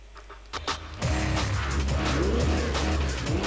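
A car engine in the racing video game Midnight Club 3 DUB Remix revs up loudly after a few clicks, holding a steady roar with rising and falling pitch sweeps as it accelerates and shifts, with no talking.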